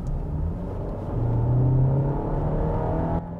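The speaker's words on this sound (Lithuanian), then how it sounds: "kas girdėsis, tai akceleruojant variklio darbas." A Volkswagen Tiguan SUV's engine accelerates, heard from inside the cabin as a steady low rumble that swells and holds with a rising hum before easing off.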